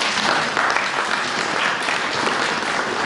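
Church congregation clapping in a dense, steady burst of applause that fills the whole stretch without pause.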